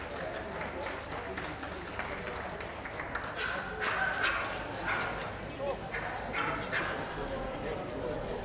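Dogs at an all-breed show ring, including a Water Dog, Beagle and Japanese Spitz, give scattered barks and yips amid crowd murmur, talk and occasional applause.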